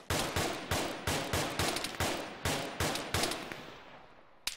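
Airsoft gunfire during a milsim game, a string of sharp single shots in a rapid, slightly uneven rhythm, close and loud, each crack trailing into a brief outdoor echo before a final lone shot.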